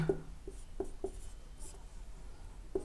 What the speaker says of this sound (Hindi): चलिए यहाँ पर लिख ही दे रहा है